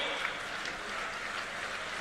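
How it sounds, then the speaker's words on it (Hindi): A crowd at a Jan Ashirwad Yatra rally in Sheopur applauds to welcome the home minister, a continuous, even wash of clapping at moderate distance with no clear voices over it. "तालियों से हम लोग अपने गृह मंत्री का स्वागत करवाएं"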